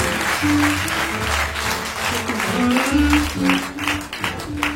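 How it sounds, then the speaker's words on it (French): Audience applause at a French association's anniversary celebration, steady clapping throughout with music playing underneath and some voices mixed in. "on applaudit"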